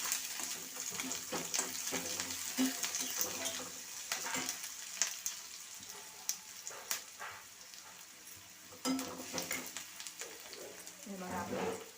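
Onions frying in hot oil for potato parathas give a quiet, uneven sizzle with small spits and occasional stirring scrapes, faint and fairly distant.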